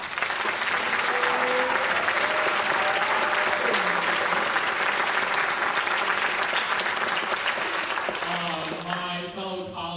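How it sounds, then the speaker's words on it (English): A concert audience at a high school spring concert gives sustained, loud applause, a thick wash of clapping that runs nearly the whole time, while voices talk underneath and fade in more clearly as it tapers off. "So please give them a round of applause."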